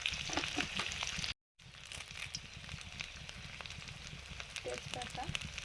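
Panch phoron spices and dried red chillies frying in hot mustard oil give a soft, continuous sizzle and crackle, quiet and close, with a brief cut partway through.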